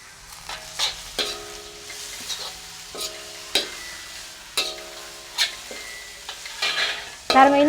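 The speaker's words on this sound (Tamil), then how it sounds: "பாருங்க வெங்காயம் இந்த மாதிரி வதங்கின பிறகு நாங்கள் லீக்ஸ் போட்டுக்கொள்வோம். வந்து கோவா சேர்த்துக்கொள்வோம்." Onions being sautéed with leeks and cabbage in a pan, with repeated stirring scrapes and a low, steady sizzle in short bursts, close by and with no talking.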